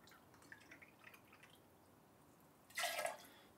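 Pineapple juice poured into a cocktail shaker or jigger during cocktail mixing; a short, splashy liquid burst close by near the end, after a few faint clicks and quiet room sounds.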